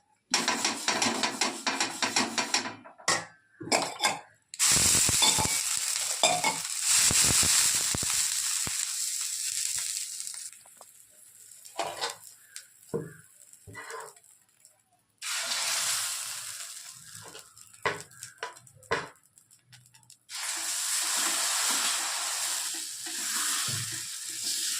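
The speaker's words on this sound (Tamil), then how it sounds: "இப்போ தோசை ஊற்றி காமிக்கிறேன் வாங்க." Adai dosa batter poured onto a hot pan and frying, bursts of loud sizzling broken by gaps, with scraping and clanking of a utensil against the pan between them.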